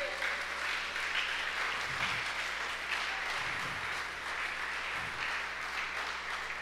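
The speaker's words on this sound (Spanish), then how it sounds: "dale un fuerte aplauso junto conmigo." A church congregation applauds during a Spanish-language service, a steady wash of clapping from many hands at moderate distance over a low hum.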